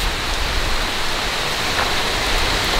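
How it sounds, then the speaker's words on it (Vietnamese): Steady rain pours down outdoors in a continuous, dense hiss, close and fairly loud, with no voices over it. "nó đang mưa rồi. Nó đang mưa mất rồi."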